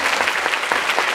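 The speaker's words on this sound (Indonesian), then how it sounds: "tepuk tangan!" A brief burst of clapping from a seminar audience, steady and moderately loud for about a second.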